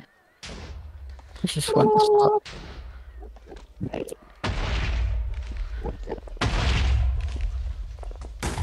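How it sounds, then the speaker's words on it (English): Minecraft game explosions, small blocky blasts going off in a display, heard as several loud rumbling booms and bursts while players talk over them. "It's like a 5-block explosion, don't worry."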